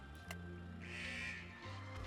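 Zombie crows in the survival game 7 Days to Die give a single harsh caw that rises and then fades out, with steady low in-game drones underneath.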